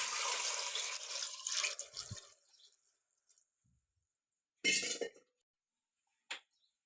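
Water pours into a pressure cooker holding brinjal, tomatoes, cowpeas, green chillies and salt, a rushing splash for about two seconds followed by quiet and two short metallic clinks.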